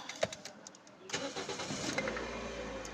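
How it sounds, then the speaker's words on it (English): A Toyota or Lexus car engine with its ABS light on cranks briefly after a click, then catches and settles into a steady idle, heard close up. "Let me start the vehicle."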